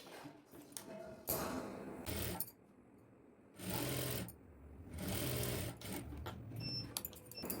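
A sewing machine stitches piping onto a simple blouse in runs of steady mechanical whirring, each lasting about a second, with short pauses between them and a faint voice now and then.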